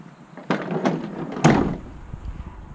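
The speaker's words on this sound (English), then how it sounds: "A sliding door?" The sliding side door of a 1992 Mitsubishi Expo minivan rolls along its track with a rumbling scrape, then shuts with a solid thunk, loud and close.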